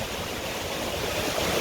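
A river swollen after five days of continuous rain rushes past in a steady, dense roar of fast-moving water, close and constant, with no voices.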